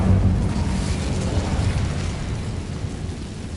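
Incendio fire spell in Hogwarts Legacy on PS5, a steady roaring burst of flame with a deep rumbling low end, loud and continuous, fading slightly over a few seconds with no voices.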